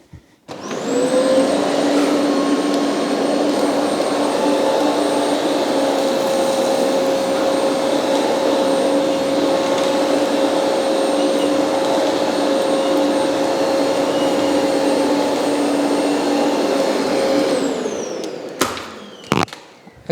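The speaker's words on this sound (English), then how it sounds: "I hope that came across on the camera there just how well this Kenmore has done at picking the dirt and the dust up" A Kenmore DC5070 bagless vacuum cleaner runs on a hard floor, a loud steady motor whine with a constant high tone, sustained for about seventeen seconds before winding down, followed by a few clicks and knocks.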